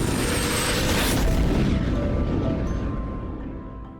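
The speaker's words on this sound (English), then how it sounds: "A for airplane." An airplane roaring past, a loud broad rushing roar that peaks and then slowly recedes, heard alone without voices.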